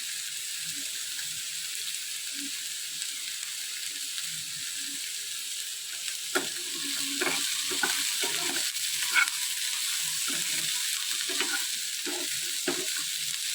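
Ivy gourd (tindora) with cumin frying in a pan gives a steady, close sizzle that runs the whole way through, with occasional soft stirring knocks and no talk.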